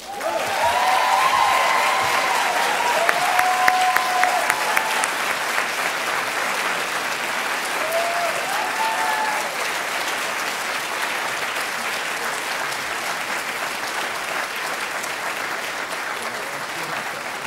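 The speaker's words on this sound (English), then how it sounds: "If the cheering section will be quiet, we'd like to ask Deb to say a few words" An audience claps and cheers at a hospital organization's annual meeting in Toronto. Loud applause rolls on steadily for the whole stretch, with a few brief whistles or whoops near the start.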